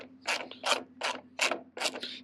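Screws are driven into the plastic housing of a Recon tail light on a Ford F250 in short ratcheting bursts, about six quick grinding pulses, close and alone.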